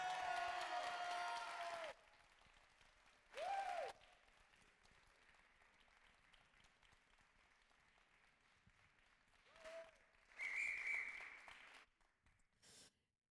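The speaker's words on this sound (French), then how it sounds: "Vous pouvez applaudir." An audience at a French final of a song contest for blind and visually impaired artists breaks into brief bursts of applause, quiet and somewhat distant, separated by stretches of low room noise.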